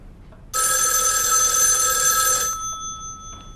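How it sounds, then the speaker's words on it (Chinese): A telephone bell rings loudly in one continuous burst of about two seconds, then cuts off into near silence, with no voices. "你们叶局长电话，说好的，我不用回避，请接吧。"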